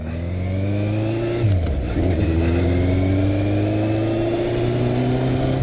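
A 2002 Yamaha Fazer 600 FZS without ABS being ridden, its inline engine droning steadily up close, dipping briefly as the rider shifts gear, then pulling again with a smooth rising hum.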